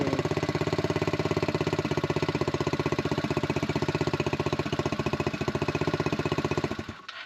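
A buggy engine runs steadily at a fast, even idle with a buzzing mechanical pulse, loud and close, holding constant for several seconds before cutting off abruptly near the end.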